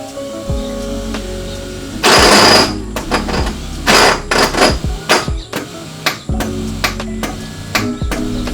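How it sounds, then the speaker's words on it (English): A failing car starter motor cranks with irregular clattering and grinding bursts, harsh knocks and whirring in uneven rhythm, close and loud, alone. "if you wonder how your starter sounds like if it's bad, it would sound like this"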